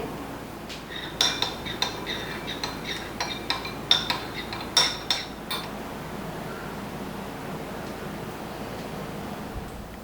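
A spoon stirs tomato ketchup and sugar in a bowl while preparing chilli chicken, producing a run of light clinks and taps against the bowl in the first half, then quieter scraping over a steady background hiss, with no talking.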